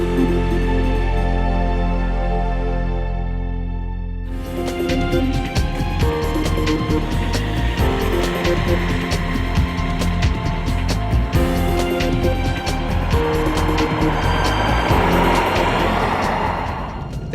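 A 2017 Mercedes-Benz C-Class saloon on UK roads, a steady car drone and road rumble that builds after a quieter opening, with no voices.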